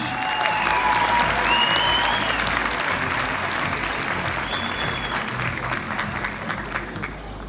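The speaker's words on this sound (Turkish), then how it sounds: "Sayın Dekanımız için de kocaman bir alkış alalım lütfen." Audience applause for the dean at a university recreation night closing event, a dense, loud wash of clapping sustained throughout with faint tonal noises above it, easing slightly toward the end.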